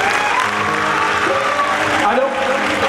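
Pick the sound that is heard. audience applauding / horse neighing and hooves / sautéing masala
audience applauding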